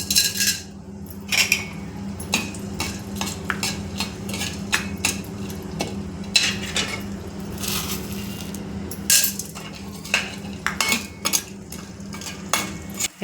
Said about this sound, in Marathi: तूप टाकलेलं आहे, त्यात थोडं थोडं आपण हे डिंक फुलवून घेत आहे